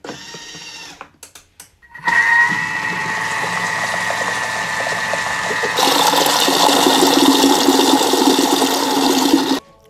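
A kitchen mixer runs at speed 4 with its lid on, mixing baghrir crêpe batter: a steady, loud motor whir with churning, after a brief start, growing louder and rougher partway through.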